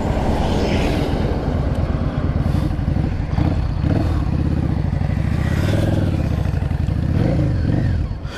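A 2003 Yamaha Drag Star 650 motorcycle being ridden, its engine loud and close with a steady throbbing rumble that rises and falls as the rider works the clutch and throttle, with wind noise and a rider talking now and then.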